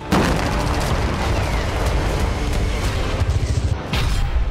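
A dense barrage of booming blasts and rapid bursts at Israel's Filon base during Hezbollah attacks, loud and continuous, like heavy explosions and artillery fire rolling one after another.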